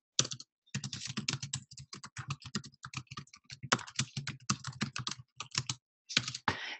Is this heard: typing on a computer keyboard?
yes